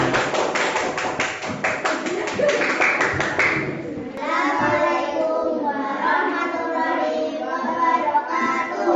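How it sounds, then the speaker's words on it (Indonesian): A classroom of fourth-grade primary school children claps in a rapid, rhythmic burst for a presenting group, then the clapping fades into children's chatter and someone speaking. "Tepuk tangan untuk kelompok Sunan Kalijaga"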